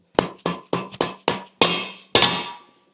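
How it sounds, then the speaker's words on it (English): Dead blow hammer strikes on a tight bearing being driven onto a Dana 44 rear axle shaft, seven sharp close blows in a steady rhythm, each thud ringing briefly before the next. "I'm just going to try hitting it with a dead blow hammer"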